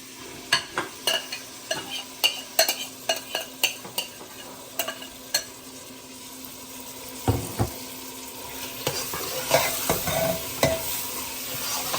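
Marinated chicken frying in ghee with tomatoes for a pressure-cooker biriyani, stirred with a string of sharp utensil clinks and scrapes over a steady sizzle, closer and busier toward the end; nobody speaks.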